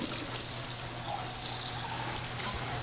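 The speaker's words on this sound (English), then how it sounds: "I'm going to rinse the bowl" Tap water running steadily into a kitchen sink while a bowl is rinsed, a close, continuous splashing rush with no speech.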